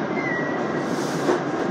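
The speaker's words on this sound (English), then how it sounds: "on the 4 train from Long to Mosholu Parkway" An R188 subway train on the 4 line in the Bronx rumbles steadily inside the car, with a continuous low roar of wheels and motor, a faint high whine early on and a slight swell near the end.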